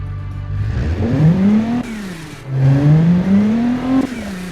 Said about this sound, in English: Yeah, sounds like a V6.